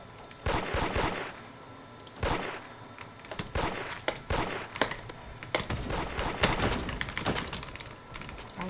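Rapid gunfire from the Roblox game Da Hood comes in sharp, clustered bursts and single cracks. It is loud and dense, and quick clicking runs between the shots.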